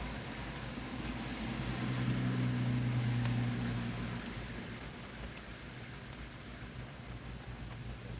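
Steady, soft rain falling outside, a continuous even hiss over a low droning hum like an idling vehicle, quiet and unbroken with no voices.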